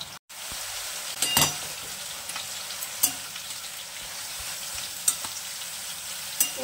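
Bottle gourd leaves hiss and sizzle in a wok as their water cooks off. The steady frying carries a few sharp clinks of the spoon against the pan.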